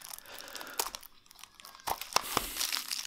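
Plastic wrapping around a Cuphead PS4 standard edition game box crinkles and tears in close, irregular bursts, with sharper crackles toward the end.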